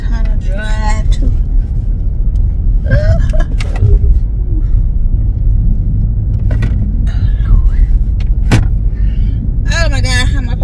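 A car drives along with a continuous low engine and road rumble, fairly loud and close, while someone talks and exclaims over it throughout.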